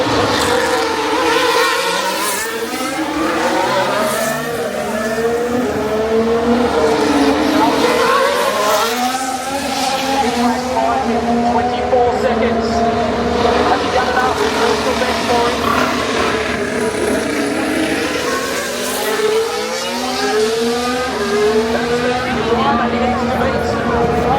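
A Formula 1 car at full throttle during the 2025 Singapore Grand Prix: a loud, high-pitched engine wail rising and falling through gear changes over nearly half a minute, under continuous excited race commentary.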